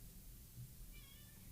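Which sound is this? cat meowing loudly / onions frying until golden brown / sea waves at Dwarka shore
cat meowing loudly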